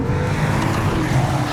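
A 2021 Maserati Ghibli Trofeo with a Ferrari-developed 3.8-litre twin-turbo V8 roars loudly from inside the car, a steady deep engine drone with a hint of tire noise during hard driving.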